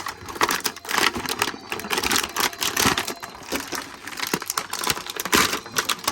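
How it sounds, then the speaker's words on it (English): Rubber bands snapping and tearing off a Masterverse Pig Head action figure as it is freed from its packaging, a dense run of sharp crackling snaps and rustling plastic, close and continuous with no voices. "now we get to have our first little bit of band breaking"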